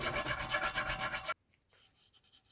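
Metal file rasping down small knobs on motorcycle engine cam caps, a steady rhythmic scraping of close, even strokes for about a second, then stopping into near silence with faint handling noises.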